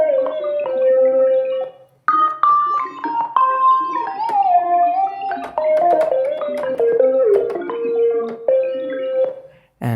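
A Massive X synthesizer lead patch with glide plays a legato melody, notes sliding smoothly between pitches with a bubbling, filtered tone, clear and upfront in two phrases separated by a short gap, no talking.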